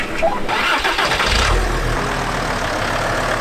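A campervan engine cranks briefly and catches, then settles into a loud, steady idle close by with a low rumble, on a road trip along the Panamericana.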